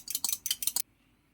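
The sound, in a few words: beating an egg with a fork in a bowl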